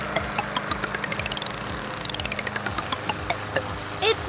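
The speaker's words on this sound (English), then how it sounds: "All right, let's start our engine." A small lawn mower engine putters steadily at a rapid chugging idle, close and fairly loud, with a rising and falling whine sweeping through it.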